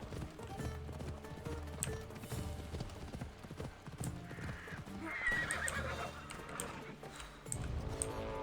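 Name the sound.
horse neighing and hooves in video game Assassin's Creed Odyssey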